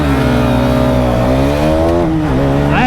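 A KTM Duke 250 motorcycle engine screams at high revs and bounces off its rev limiter, loud and close, its pitch climbing and then stuttering near the top before falling away.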